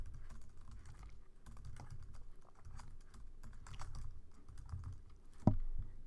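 Quiet, close typing on a computer keyboard while a folder is created, with scattered soft key taps in an irregular rhythm and one sharper click near the end.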